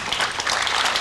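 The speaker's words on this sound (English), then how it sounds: "The knowledgeable pool fans in the audience applaud his effort" Pool fans in a billiards-match audience applaud, a short, fairly loud burst of dense clapping.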